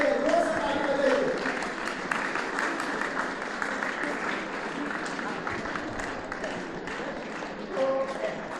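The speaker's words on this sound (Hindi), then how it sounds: "बच्चों को उत्साहित करने के लिए ताली बजाइए, जोर से ताली बजाइए" An audience claps to encourage school children being honoured by a men's committee, a sustained patter of many hands at moderate distance, with voices mixed in throughout.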